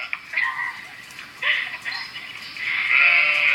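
A person imitates sheep bleating with a few drawn-out, nasal calls, the last one long and steady, close to the microphone and with no other voices.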